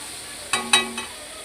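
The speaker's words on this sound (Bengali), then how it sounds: "এখন আমি 2 মিনিট ভালোভাবে নাড়াচাড়া করে নেব।" A spoon stirs spice paste thinned with a little water in a pan, giving three quick scrapes against the metal over a faint background sizzle, close and without talk.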